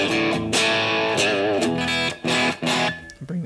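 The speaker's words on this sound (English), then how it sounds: "So now we're actually going to start getting into preamp distortion." Distorted electric guitar through an amp's preamp with the gain turned up, playing gritty sustained chords and notes in short phrases with brief gaps, loud and up close.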